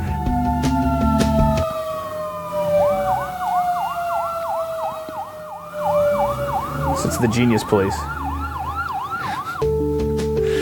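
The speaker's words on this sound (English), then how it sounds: "there are sirens outside of his interview" Emergency sirens wail and yelp outside, rising and falling in repeated whoops, mid-distance, with someone speaking briefly over them.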